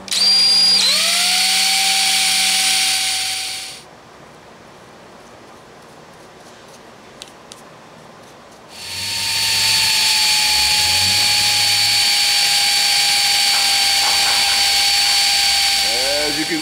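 A power drill bores a pilot hole into a Toyota ignition lock retainer, running loud and steady for several seconds, stopping, then starting again for a second long whine.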